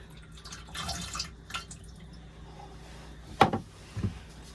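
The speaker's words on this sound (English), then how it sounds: "We're just adding a bit of water to the empty container." Water splashes briefly into an emptied plastic urine container from a Nature's Head composting toilet. Two short, quiet pours or splashes occur near the end, with a little faint handling noise before them.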